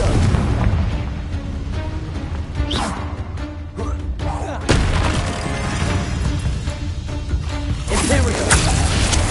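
Confringo spell blasts in Hogwarts Legacy boom repeatedly, with several sharp bursts and crashes thudding loudly over a dense background of combat noise.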